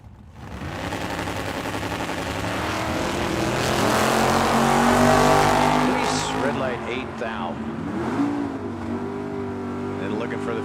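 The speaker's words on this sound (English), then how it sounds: "And Mr. Wolfmeyer in the 72 Long Roof Vega is a small block. It's a stroker motor" A 1972 Long Roof Vega drag car with a small-block stroker engine launches down the strip, its roar swelling loud and close, then trailing off, while an announcer talks over it.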